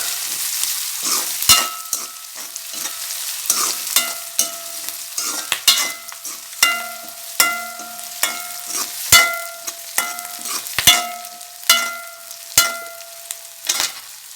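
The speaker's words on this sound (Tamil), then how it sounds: "வெங்காயம் போட்டு ஓரளவு வதங்கிட்டுச்சு" Onions and okra sizzle in a hot pan while a utensil scrapes and clinks against the metal in repeated stirring strokes.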